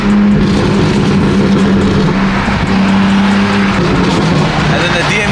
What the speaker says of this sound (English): these cars aren't the best sounding cars, but with the Valtronic equal length exhaust